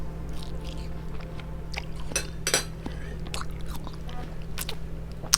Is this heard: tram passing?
no